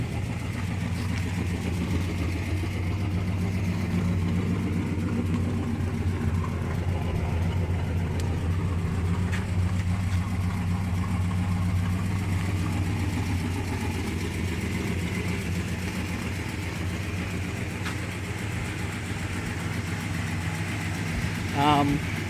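A 1966 Dodge Coronet engine idles steadily and loudly nearby, its low even rumble continuous throughout with little change in pitch.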